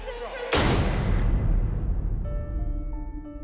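A single loud gunshot in a true crime reenactment cracks sharply, then its heavy boom rolls and decays over a couple of seconds as a low musical tone rises underneath.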